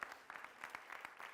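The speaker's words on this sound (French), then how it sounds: "faire un tonnerre d'applaudissements" Studio audience applause greets a performer on a Burkinabè TV variety show, a quiet, steady patter of clapping with small swells across a brief moment.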